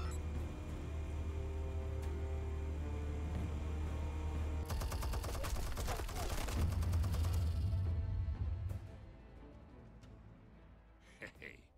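Video-game gunfire in Batman Telltale rattles in a dense, sustained burst over a low hum and game sound, then it cuts off and the scene goes quiet.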